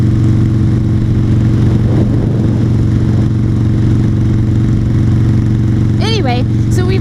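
A motorcycle engine hums steadily on an early May ride, droning loud and unbroken beneath wind rush, with a rider talking over it.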